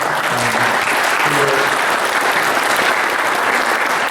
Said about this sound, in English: So again, a round of applause for them.